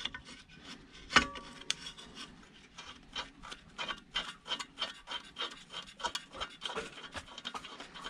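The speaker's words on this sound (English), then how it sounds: "So you have to unscrew it as if you're screwing it up." A counter-threaded bolt being unscrewed among salvaged components and scrap metal, giving steady rhythmic rasping and scraping strokes, about two per second, close and fairly loud, with a sharper click near the start.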